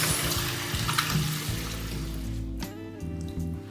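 Water runs steadily from a bathroom tap during face washing in a nighttime skincare routine, a continuous close splashing flow that shifts as hands move through it, with no speech.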